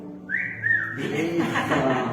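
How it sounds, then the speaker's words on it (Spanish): A woman whistles a short melodic tune, a rising held note then wavering phrases, fairly close and clear against a quiet indoor room with faint background murmur. "Por ahí alguien chifla bonito"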